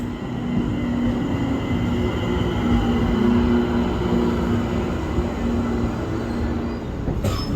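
A Pittsburgh Red Line light rail train rolls along the track, heard from inside the car. It gives a steady, loud rumble with a sustained hum and faint wheel squeal, then a sharp click near the end.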